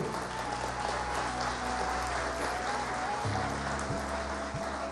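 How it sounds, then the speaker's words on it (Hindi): Studio audience on a Pakistani iftar TV show applauding in a continuous, loud wash of clapping that stays even throughout, with a faint electronic hum and tones beneath. "जोर से तालियां तो बजाओ"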